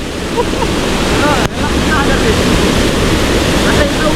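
A river swollen into a flood after sudden heavy rain, its rushing water filling the scene with a loud, steady roar and a brief dip partway through.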